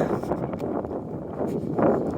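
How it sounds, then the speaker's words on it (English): Low, blustery wind buffets a microphone close up, a rumbling, uneven roar with gusts that swell and ease. "I am certainly getting some wind up here."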